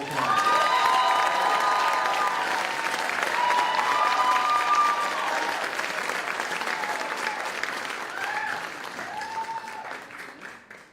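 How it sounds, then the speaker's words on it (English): Audience applause at a school talent show, a sustained burst of many clapping hands close and loud, with light cheering, gradually thinning toward the end. "Give him a round of applause"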